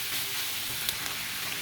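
Sliced pork sautéing in a pan for Filipino pork asado, a steady close sizzle and hiss with faint stirring clicks, no talking.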